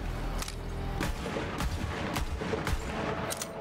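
Sniper rifle gunshots in Borderlands 3, several sharp reports spaced irregularly over a steady game background, fairly faint.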